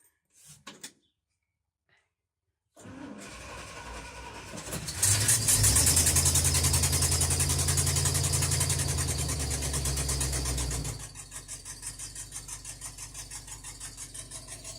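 An old truck with 116,000 miles and a bungee cord rigged to the throttle cranks and starts after a short quiet pause, then roars loudly at high idle for several seconds before settling into a steadier, lower idle.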